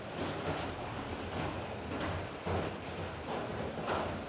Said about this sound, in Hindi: बाकी देखिए बारिश हो रही है